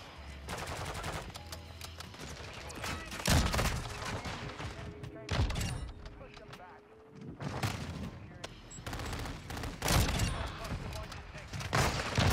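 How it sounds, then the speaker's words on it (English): Repeated heavy shotgun blasts from a Call of Duty MW2 match on the Estate map, loud sharp bursts at irregular intervals over game background noise, with a few quieter stretches between volleys. "All these new guns in the game, they're still using fire shotguns."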